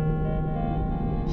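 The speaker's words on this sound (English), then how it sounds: "This right here is a skill training completion sound effect." A short chiming skill-training completion tone from the EVE Online space game, sustained layered harmonic notes ringing steadily with no speech, clear and alone for just over a second.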